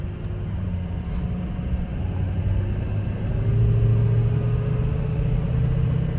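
A 2004 Ford Excursion with a 6.0L Powerstroke diesel drives and turns, its engine a steady low rumble that grows slightly louder partway through, heard from nearby with no talking.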